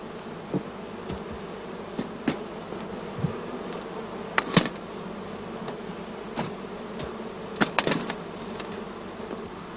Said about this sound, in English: Next, we open the entrance holes and let the bees fly.